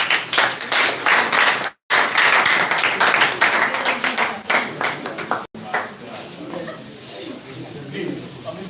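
An audience claps for a student at a student defense event, a burst of loud close applause that breaks off briefly, resumes, then thins into scattered claps under chatter.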